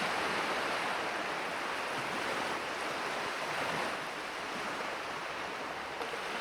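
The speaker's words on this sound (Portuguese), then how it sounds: "ensurdecedor das ondas quebrando contra o casco" Heavy ocean waves pounding against a ship's hull in a howling storm, a dense continuous roar of surf and spray with wind, loud and unbroken throughout.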